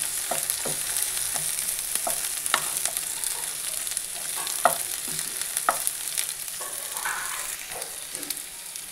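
Chopped onion and a few garlic cloves frying in a pan, a steady close sizzle with scattered crackles and spoon-stirring clicks, no talking.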